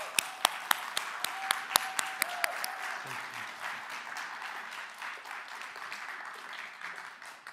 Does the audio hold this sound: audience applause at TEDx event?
yes